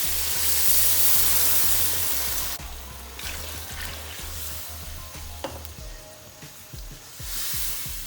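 Water poured into a pot of rice for degi-style chana pulao, a steady close splashing and sizzling rush that drops in level partway through, then continues more softly with a few clinks.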